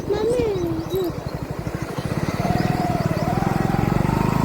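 Motorcycle riding along a road towards Vadnagar Civil Hospital, its engine a steady, close, rapid pulsing drone that rises slightly partway through, heard under continuous talking.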